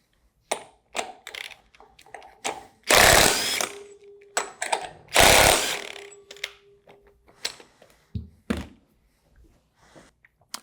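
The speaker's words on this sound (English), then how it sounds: "Use the proper socket for your rotor nut and the impact wrench." An impact wrench removing rotor nuts on a Waukesha Universal 3 PD pump: two loud bursts of rapid hammering rattle, each lasting about a second, among scattered metallic clicks and knocks of tools and parts, close by.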